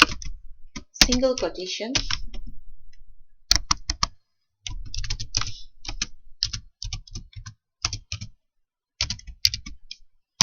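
Python code being typed on a computer keyboard, bursts of quick close key clicks between pauses, with a person talking briefly near the start.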